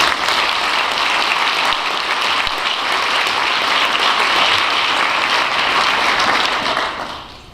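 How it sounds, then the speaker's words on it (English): A graduating class audience applauds Commandant's List recipients at a military ceremony. The crowd claps steadily for several seconds and then tapers off near the end. "Please join me in giving the Commandant's List recipients a round of applause."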